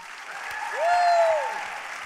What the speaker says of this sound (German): wir geben ihr einen fetten Applaus.